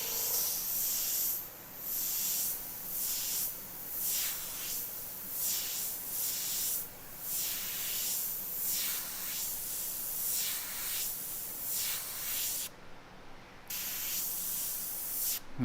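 An airbrush sprays purple paint onto a T-shirt, laying a drop shadow behind lettering: a steady close hiss of air and paint that swells and eases in repeated bursts, with one brief pause near the end.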